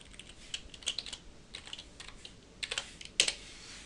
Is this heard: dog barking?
no